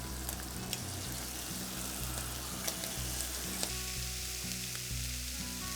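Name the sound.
scallops searing in a frying pan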